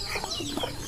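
Several chickens among a large farm flock near their broiler cages cluck in quick, overlapping bursts, close and fairly loud against a steady background murmur.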